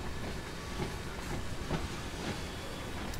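A steel freight train in Train Sim World 2 on the Ruhr-Sieg Nord line rolls slowly into a station siding, with a low continuous rumble, faint hiss and soft rhythmic wheel clicks, quiet and steady throughout.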